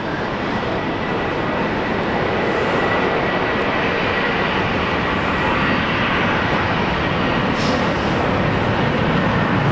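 An aircraft at Brisbane airport produces a loud, continuous jet engine roar, broad and steady throughout nearly ten seconds, heard from fairly close by with no talking over it.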